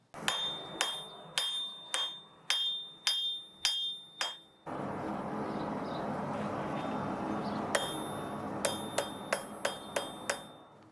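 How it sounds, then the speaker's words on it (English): A blacksmith hammers a piece of steel on an anvil to draw it to a tapered point: a steady series of sharp ringing strikes, then a few seconds of roaring forge-like noise, then a quicker burst of ringing blows, close and clear. "draw this piece of steel out and bring it to a tapered point"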